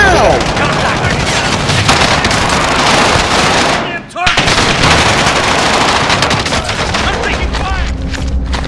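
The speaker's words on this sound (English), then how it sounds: "Enemy precision airstrike. Take cover." An enemy precision airstrike pounds down in the Call of Duty Modern Warfare shooter: a loud, dense barrage of rapid blasts and crackling fire that rolls on almost without pause, broken by one brief gap.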